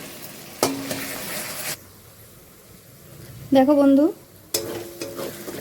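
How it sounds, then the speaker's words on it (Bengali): Onions frying with ginger-garlic paste for a chicken curry hiss and scrape as they are stirred in a pan. The sizzle comes in two short bursts, and a voice says a brief word between them. "এবারে আমি তার মধ্যে আদা রসুনের পেস্ট 2 টেবিল চামচ মতো, 1 চামচ আদা 1 চামচ রসুন দিয়ে এটাকে ভালো করে নাড়বো"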